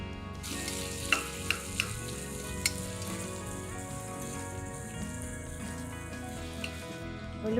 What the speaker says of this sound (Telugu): టపటప అంటూనే ఉల్లిపాయలు వేసేద్దాం